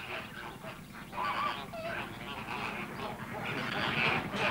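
A group of geese and ducks honk and quack over one another at a water bird park, fairly faint and a little distant, with a steady outdoor background.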